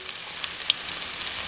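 A Filipino-style gisa sauté sizzles in a pan as a bright, continuous hiss, with a few small crackles and pops on top, close and steady with no talking.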